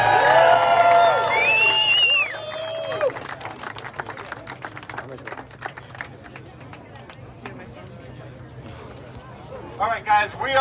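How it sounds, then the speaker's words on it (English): Crowd applause and cheering at an outdoor Memorial Day rally in Chicago. It starts loud with voices and shouts over a steady hum, then eases into scattered clapping and crowd noise that swells again near the end. "Round of applause for Michael Gerber, everybody."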